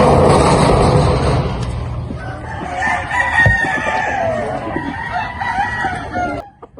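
A gamecock crows loudly and close, with a long drawn-out call, and hens cluck around it in a farmyard.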